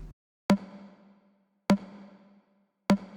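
Three sharp snare-like percussion hits, distorted and drenched in reverb, strike about 1.2 seconds apart, each with a loud crack and a long ringing tail that decays before the next hit.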